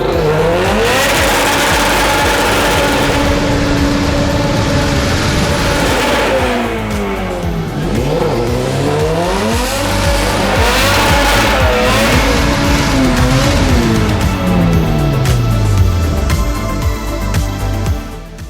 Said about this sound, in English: we can't do a proper burnout to break in the new rear diff. I guess we're just gonna have to do it inside Andy's shop